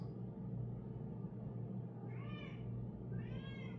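A cat gives two drawn-out meows, quiet and somewhat distant, over a constant low rumbling hum.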